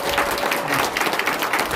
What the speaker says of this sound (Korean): 사모님 우리 박수 한번 같이 해주시죠.